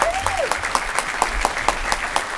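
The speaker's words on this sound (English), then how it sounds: "Big round of applause." A crowd at a community event gives a short burst of applause, steady clapping with a few distinct sharp claps standing out, moderately loud and brief.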